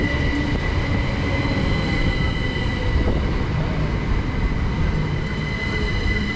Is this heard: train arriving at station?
yes